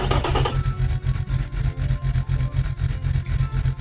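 A twin-turbo V6 engine in the Automation car game idles roughly, with a steady low rumble and a fast, uneven pulsing throb, loud and close, with no voices.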